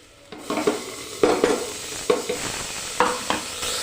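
Tomatoes go into a pan of fried onions, a close sizzle broken by repeated spatula scrapes and metallic knocks against the pan every half second or so, with no talking.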